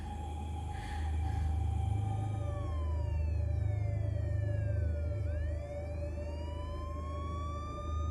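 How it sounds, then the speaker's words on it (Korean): A police siren wails in a horror film, its rising and falling tone sweeping over a low rumbling background, fairly distant and moderate in level, continuing throughout without voices. "희미하게 들리는 경찰 사이렌 소리에 서둘러 뛰어나가는데"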